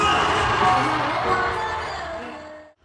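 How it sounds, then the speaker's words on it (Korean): Studio audience at a Korean variety show applauding and cheering, a loud dense wash of crowd noise with shouts that fades out at the end. "여러분 박수 한번 주세요"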